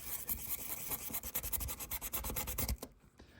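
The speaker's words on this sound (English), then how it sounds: "This is something called a fiberglass brush" A fiberglass brush scrubs brass on a model engine to clean it before soldering, a quick run of close, soft scratchy strokes in a steady rhythm that stops abruptly near the end.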